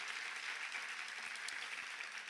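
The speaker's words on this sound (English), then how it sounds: "give them a big round of applause as well" Conference audience clapping in a steady, dense round of applause, fairly faint and distant, with no speech over it.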